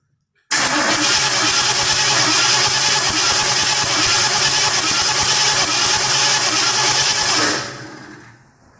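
A 1972 Ford Mustang Mach 1 with a suspected bad new fuel pump cranks on its starter in a loud, steady, rhythmic churn for about seven seconds without catching, then stops.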